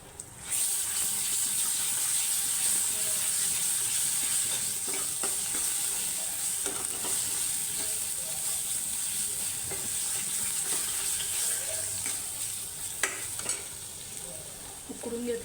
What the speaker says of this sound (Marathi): त्याच्यामध्ये ही पेस्ट टाकून घेऊया, कांदा टोमॅटोची पेस्ट.